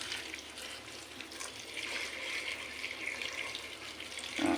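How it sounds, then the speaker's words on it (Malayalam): Water poured into a clay pot while making a quick buttermilk curry, a steady close splashing pour with a watery hiss that swells slightly toward the end, with no talking. "ഇതിനുള്ള വെള്ളം ഒഴിച്ചു കൊടുക്കുന്നുണ്ട്"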